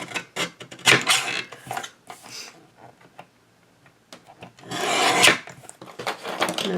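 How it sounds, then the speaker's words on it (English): A recycled Christmas card gets its edges trimmed a little on each side. Scattered close scraping and cutting strokes come in two busier bursts with quieter gaps between them. "I'm going to trim all the way around, a little bit off of each edge"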